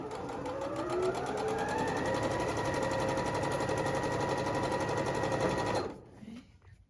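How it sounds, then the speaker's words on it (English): A sewing machine runs steadily while sewing quilt pieces, a close continuous whirring stitch rhythm that rises in pitch, then stops near the end. "So we're sewing."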